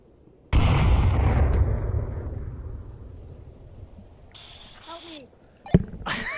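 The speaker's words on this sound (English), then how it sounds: "Grenade!" A grenade explosion in a video game: one sudden loud blast with a long rumbling decay, followed by faint shouted voices and a second sharp bang near the end.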